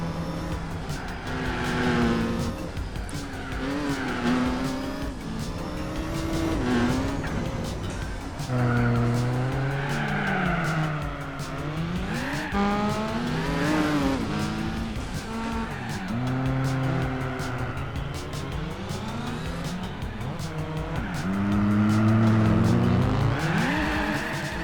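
Nissan Skyline GT-R in Gran Turismo 4, its engine revving up and down through gear changes with repeated tire squeal in corners, loud and continuous race-game audio throughout.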